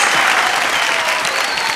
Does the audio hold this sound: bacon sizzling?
no